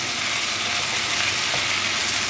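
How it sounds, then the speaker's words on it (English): Vegetables for sambar fry in hot oil, giving a loud, continuous close-up sizzle that hisses evenly for a couple of seconds without any voices. "leave it for 3 to 4 minutes to fry it on the oil"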